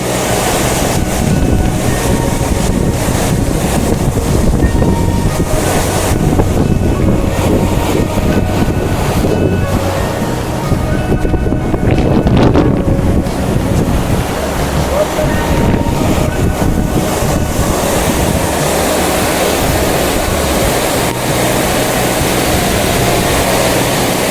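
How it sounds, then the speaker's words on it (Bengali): Water released from Maithon Dam in Jharkhand roars without pause, a loud, broad, continuous rush mixed with wind buffeting the microphone, with some faint voices beneath. "জলের কি শব্দ"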